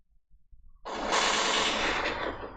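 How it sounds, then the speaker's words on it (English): A burst of AK-47 fire from a video game erupts after a brief quiet start, a dense, loud, sustained rattle of shots lasting a couple of seconds. "This is AK-47 sound."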